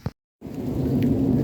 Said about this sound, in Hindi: गरज चमक के साथ हल्की हल्की बारिश हो रही है।